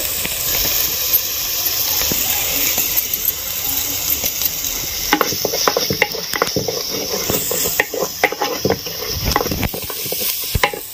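Chicken feet curry with onion paste, ginger and turmeric frying in a pan, producing a loud continuous sizzle and hiss with stirring scrapes and clinks picking up toward the end, close by and without speech.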